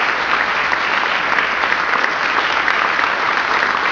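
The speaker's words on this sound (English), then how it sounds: "Let's give her a round of applause as we celebrate" A church congregation claps in a dense, steady round of applause honoring a minister, loud and continuous throughout with no pauses or voices standing out.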